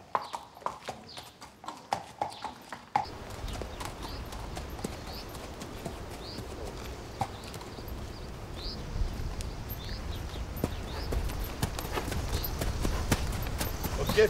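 A horse being walked during a trial ride at a horse dealer's, its hooves clip-clopping in a steady rhythm. Crisp close hoof strikes give way to a noisier outdoor background with birds chirping and faint voices.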